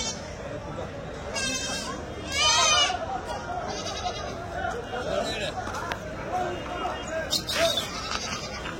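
Milk goats at a livestock market bleat several times, loud nearby cries rising out of a busy crowd murmur, with people talking throughout.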